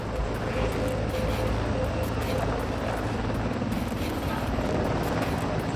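AH-64 Apache attack helicopter flying, a steady, dense rotor and engine roar that holds at constant loudness throughout with no breaks.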